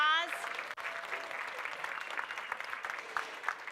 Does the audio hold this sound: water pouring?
no